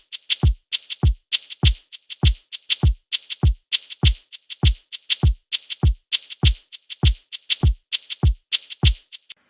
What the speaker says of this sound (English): How to make Afro shaker loops that sound like this.